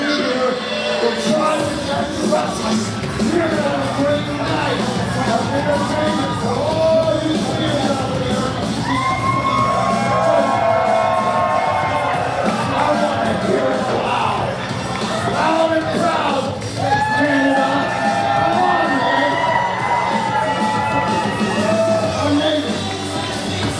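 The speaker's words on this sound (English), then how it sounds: "The sold out crowd is loving this" A sold-out crowd at a Project X Wrestling show cheers loudly and steadily, with shouts, whoops and children's yells rising in waves above the constant roar.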